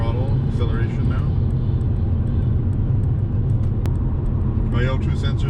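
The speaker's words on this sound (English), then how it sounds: "Moderate throttle acceleration now." A BMW accelerating at moderate throttle on the road, heard from inside the car as a steady low engine drone with rumble and road noise throughout, and a voice talking over it.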